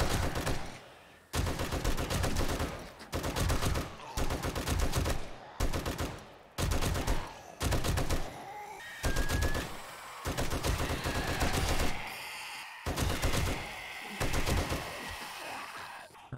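Gunfire in the zombie survival game 7 Days To Die erupts in loud, rapid automatic bursts, roughly a dozen strings of shots separated by brief pauses, close and dominant.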